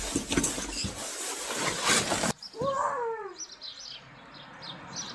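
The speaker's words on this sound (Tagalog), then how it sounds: "Narinig ko na yung tunog ng ibon." Small birds chirp outdoors on a snowy late-winter morning, a few short, fairly close calls after a burst of louder rustling noise, followed by faint distant twittering in an otherwise quiet scene.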